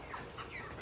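Five-week-old broiler chickens clucking softly in a chicken house, low murmuring calls close by against a constant background hum, with a sharper sound at the very end.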